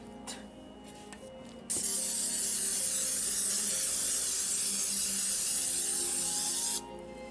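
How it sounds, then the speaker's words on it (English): Olive oil cooking spray is sprayed into a cake pan in one long, close, steady hiss of about five seconds, preceded by quiet handling noises. "olive oil cooking spray. We're gonna spray it in the pan"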